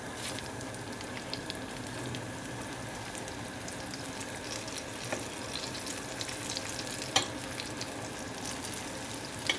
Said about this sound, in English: I like to shallow fry my dynamite shrimp.